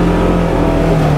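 The engine exhaust of a 2022 Polaris General XP 1000 Trailhead Edition holds a steady, fairly subdued droning hum with a low tonal note that runs unbroken throughout.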